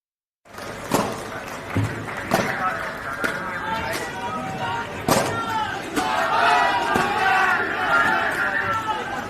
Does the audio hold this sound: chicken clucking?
no